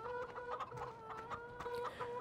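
A rooster in the farming video game Landwirtschafts-Simulator 2013 gives a steady run of clucking calls, close and fairly loud, repeating every half second or so over a constant background hum, with no talk.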